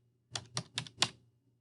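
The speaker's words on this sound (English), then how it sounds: "Now type in your password." Four crisp key presses on a computer keyboard while a password is entered, evenly spaced, close and clear, with a faint low hum beneath and no voices.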